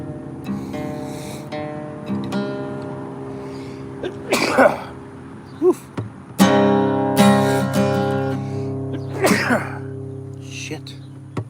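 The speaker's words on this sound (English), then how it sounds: "God, I've sneezed my eyeballs out of my face." A person sneezes several times in a row, sharp explosive bursts spaced across the stretch, mixed with voiced breaths and strained vocal sounds close to the microphone.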